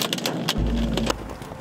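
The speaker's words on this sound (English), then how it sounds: "here comes the hail." Hail from a fast-moving supercell storm hits in a quick burst of sharp, loud impacts, followed by a low, heavy rumble of wind and storm noise.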